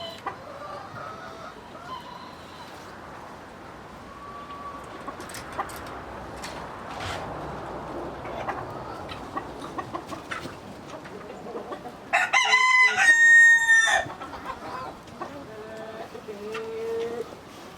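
Several large roosters crow loudly amid clucking hens, with a close, piercing crow standing out near the end over a busy farmyard background.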